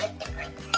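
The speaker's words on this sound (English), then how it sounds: "You're going to mix your cream of celery," Dry cream of celery soup mix being stirred with a spoon, a short burst of soft scraping strokes and a light clink against the bowl, close and quiet.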